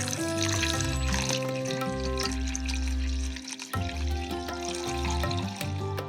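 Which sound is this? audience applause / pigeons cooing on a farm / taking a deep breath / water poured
water poured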